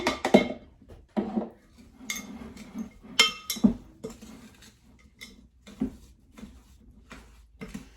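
Small diced, peeled apple pieces being folded into apple cake batter, with a spoon clinking and scraping against the bowl in irregular close strokes and short pauses.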